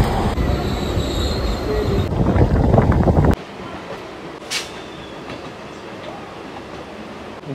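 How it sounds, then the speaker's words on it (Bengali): Krishnanagar local train arriving at a station platform near Kolkata, a loud close rumble of rolling wagons with squealing wheels and wind buffeting that cuts off abruptly, followed by quieter ambience with a brief hiss. "এসে গেছে কৃষ্ণনগর লোকাল।"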